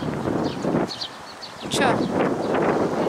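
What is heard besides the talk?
wind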